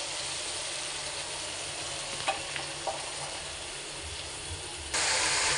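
Spice masala sautés in a pan with a little added water, giving a steady, close frying hiss with a few faint stirring clicks. The hiss jumps louder near the end.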